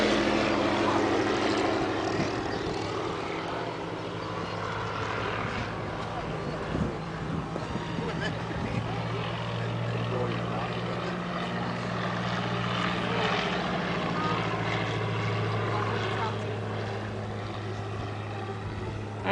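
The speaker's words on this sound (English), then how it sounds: "Look at the tight turning radius on that airplane." A WWII German propeller airplane, built in November 1942, flies a tight turn, its engine a steady, droning roar with shifting pitch throughout, while a person talks over it.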